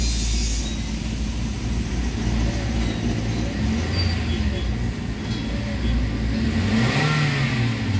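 Toyota Avanza engine with delayed throttle and low power, revving up to about 3,000 RPM and holding a steady loud drone close by.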